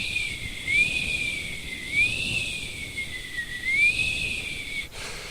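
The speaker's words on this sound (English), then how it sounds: "There was a whistling of the wind breezing through the branches of the trees just" A thin, wavering whistle of wind rising and falling in pitch, like breeze through tree branches outside a bedroom window at night, faint and continuous with no voices.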